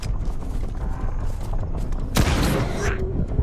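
Gunfire in STALKER 2, a sharp close blast with a ringing tail standing out over steady game ambience and low rumble.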